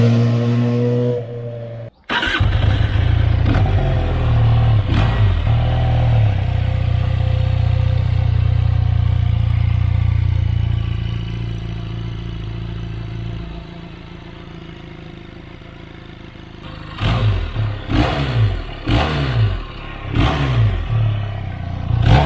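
A QJ Motor SRK 400 naked 400cc motorcycle starts and settles into a throaty idle, then later gives several sharp blips of the throttle through its exhaust, close and loud.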